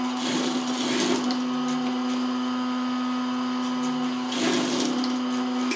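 A sewing machine runs a seam on joggers fabric with a continuous steady whirring hum for several seconds, and a slight surge comes at the start and again near the end.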